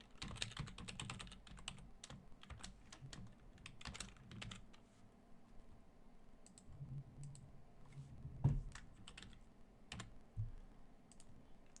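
Quick bursts of keystrokes on a computer keyboard while writing Java code, irregular clacking taps that come in clusters with short pauses, close and clear, no speech.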